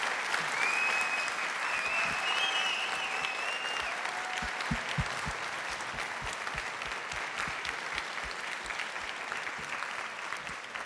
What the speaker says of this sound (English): please join me for a round of applause for all these remarkable Chesterfield County youth.